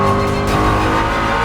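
A Ford Mustang GTD race car on a racing circuit roars past at close range, its engine a loud, dense, steady note across a brief moment.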